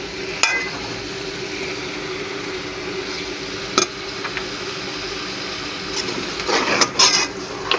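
Beef sizzling in a pan of fried garlic and ginger paste for Peshawari Shinwari karahi, a steady hiss of frying with occasional stirring clanks and scrapes, louder near the end.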